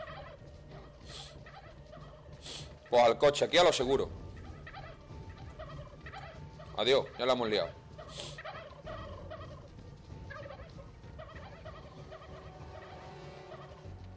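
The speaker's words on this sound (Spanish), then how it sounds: "Que han salido los pavos, cuidado" Turkeys in the zombie survival video game How to Survive 2 let out two loud, warbling gobble bursts a few seconds apart, set against ambient game sounds and scattered clicks, with someone talking briefly.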